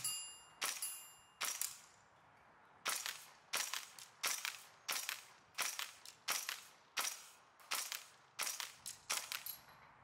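EMG Daniel Defense M4A1 MK18 gas blowback airsoft rifle firing at an outdoor range: about a dozen sharp, crisp cracking shots, singly and in quick pairs, each with a short metallic ring, against a quiet background.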